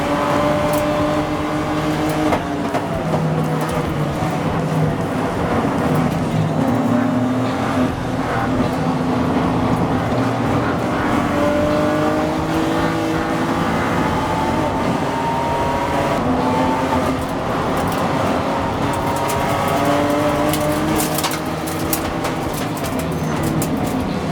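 TC America race cars at Sonoma Raceway catching traffic on a difficult part of the track, engines droning loudly and continuously with rising and falling pitch as several cars pass, no voices.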